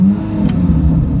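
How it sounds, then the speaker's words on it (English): A 2026 Chevrolet Corvette Z06 3LZ fires up from cold outdoors with a loud, close engine burst that settles into a heavy, steady rumble, with no talk over it. "Cold start."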